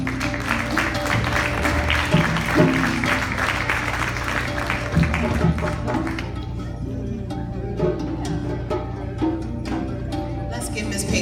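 Audience applause at a community Kwanzaa celebration in White Plains, a steady crowd clapping that stays loud for several seconds before thinning into scattered claps, with some voices mixed in.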